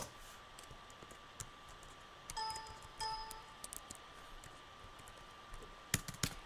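Typing on a computer keyboard: scattered soft keystrokes, a short cluster of quicker taps and a few sharper clicks near the end, faint and close in a quiet room with no talking.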